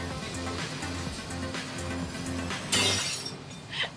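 A faulty Waterford crystal piece shatters in a single loud, bright crash after a stretch of steady factory hum, followed by a brief tinkle of falling glass fragments.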